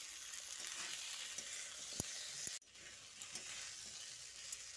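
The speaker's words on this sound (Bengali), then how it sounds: "আলু, টমেটো ও ডাঁটাটা খুব ভালো করে কষিয়ে নিয়েছি।" Potato, tomato and drumstick (sajne data) pieces sautéing in a pan on a gas flame for a Bengali vegetarian curry, a steady close sizzle and fry hiss with a few sharp clicks and a brief dip midway, no talk.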